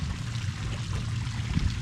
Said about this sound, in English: And a nice little water fountain here to enjoy.